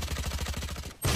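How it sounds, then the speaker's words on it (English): Rapid automatic gunfire in Valorant, about a dozen evenly spaced shots in a fast steady burst that cuts off, followed by a louder thud. "Oh god, he shot me!"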